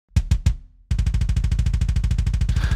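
Metal kick drum without a one-shot sample layer: a few separate thumps, a short pause, then a fast, relentless double-kick roll of even, punchy hits, loud and alone.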